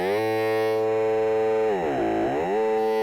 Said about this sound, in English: that kind of bit crushed sound there